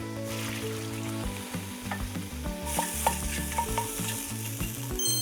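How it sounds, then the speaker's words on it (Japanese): Konnyaku stir-fried in a pan makes a steady, close sizzle broken by scraping and stirring strokes, with tonal background music underneath throughout. "でこんにゃく炒めるとこう水分バー出てくるんで"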